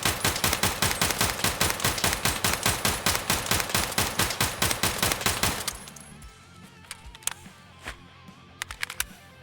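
Single-fire gunshots from a weapon in a video game, a rapid steady string of sharp loud reports for about six seconds, then the firing stops and a few scattered clicks and handling sounds follow.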